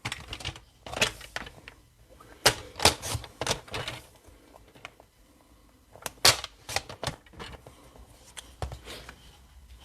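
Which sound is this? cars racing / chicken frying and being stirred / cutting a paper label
cutting a paper label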